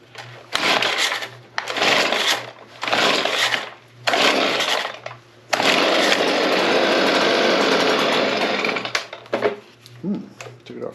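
A Stihl BG50 leaf blower's small two-stroke engine is pulled over several times in short sputtering bursts, then catches and runs loudly and steadily for a few seconds before cutting out, close by.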